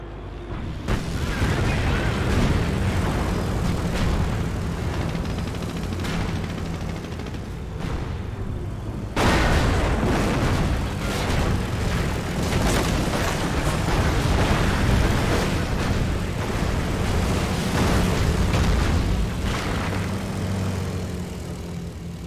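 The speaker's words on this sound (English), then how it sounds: "With this ability, Henschel aircraft will fly by the target location, targeting all enemies within their flight path." Henschel aircraft airstrike in the Company of Heroes video game: loud, dense rumbling of aircraft engines and repeated explosions, building in the first few seconds then surging sharply midway and staying heavy and continuous to the end.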